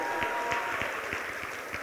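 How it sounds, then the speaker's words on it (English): An audience at a winter prayer service clapping in a steady, rhythmic beat, fairly loud and even, with no other sound standing out. "Come on, clap for the man of God."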